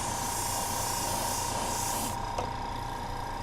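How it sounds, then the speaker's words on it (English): Wide, steady hiss of an airbrush or spray can coating a Shadow Fox Zoid model kit part, continuous and close for several seconds, easing slightly near the end. "Good wide spray, not worried about being real neat about it"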